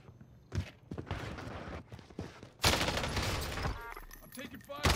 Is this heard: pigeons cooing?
no